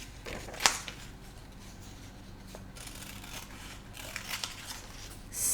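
Scissors snip through paper while a vocabulary word is cut out, a few faint, close crisp cuts with light paper rustle in a quiet room.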